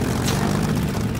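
Steady low droning engine roar with a broad hum, like a propeller aircraft engine running continuously at close range, no voices; the left engine of a flight after a duck strike.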